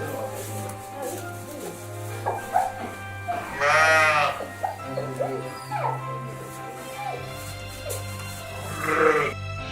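Ewes bleating at a sheep farm making sheep's-milk cheese near Najac, several separate wavering bleats across the stretch, moderately near, over steady background music and some spoken narration.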